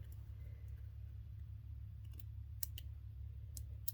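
Scissors trim paper for a planner travel page, with a handful of quiet, crisp snips coming in the last half of the clip over a low, steady background hum.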